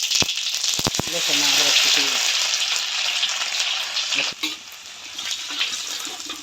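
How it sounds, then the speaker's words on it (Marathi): Cumin seeds hit hot oil in a kadhai, bursting into a loud bright sizzle after a few sharp clinks, the hiss staying strong and close before easing slightly near the end, with a voice talking underneath. "हे पा तेल गरम झालेले आहे थोडंसं जिरं घातलं"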